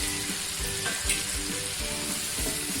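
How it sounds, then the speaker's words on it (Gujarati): Spinach hits a hot pan for a gathiya curry made without onion or garlic, setting off a loud, steady sizzle with rhythmic stirring scrapes throughout. "હવે આપણે આ સ્ટેપ ઉપર પાલક નાખી દઈશું."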